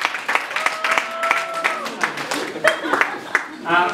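Wedding guests applaud, scattered claps over murmuring voices and a sustained musical tone, fairly close and moderately loud.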